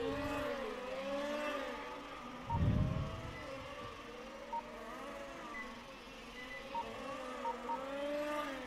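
Race cars at the Rucphen circuit pushing hard down the main straight, with a steady engine drone and shifting pitch, a louder rush passing near the middle, and a commentator talking over it.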